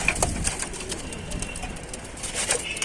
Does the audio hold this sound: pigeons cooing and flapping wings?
yes